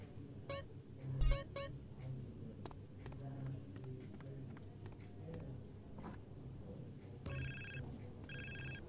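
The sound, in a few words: phone ringing in GTA San Andreas video game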